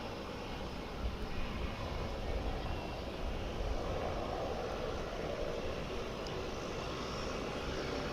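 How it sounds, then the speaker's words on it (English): An airplane rolls fast along a taxiway at DFW International Airport, its engines a continuous distant roar with a steady broadband rumble and no voices. "I've never seen a plane go that fast on the taxiway."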